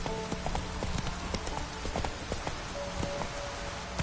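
Heavy rain in a video game pours down in a dense, constant hiss while a horse's hooves clop steadily along nearby.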